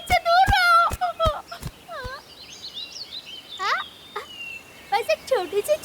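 A small cartoon bird gives a run of high, chirpy, rising and falling calls in short bursts, mixed with sharp clicks and a squeaky flutter. The calls sound like voiced imitations and are heard without speech.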